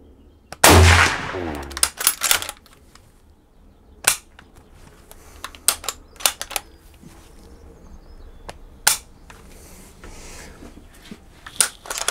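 Mosin-Nagant rifle, the legendary Russian bolt-action, fired from the shoulder at a range: one loud close sharp report with a ringing tail, followed by metallic clacks and clicks of the bolt being worked.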